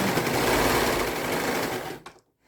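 A sewing machine stitches a fabric welding cap in a fast, even motor whir that runs close and loud for two seconds, then stops abruptly.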